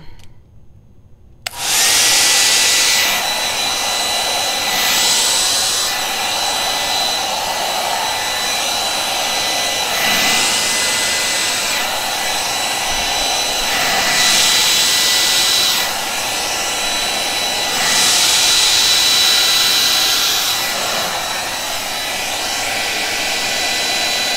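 Air steadily blown across wet acrylic paint on a canvas for a Dutch pour fluid-art piece, a loud continuous hair-dryer-like rush that swells and eases in several long pulses after a brief quiet start.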